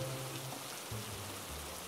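Heavy rain suddenly starting in a Hindi animated moral story about a jackal and a rabbit, a steady hiss of rainfall at moderate level throughout with low tonal music underneath.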